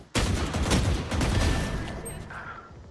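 Dense burst of gunfire in Valorant, a rapid loud fusillade of shots that starts abruptly and keeps up before tapering off, with no voices.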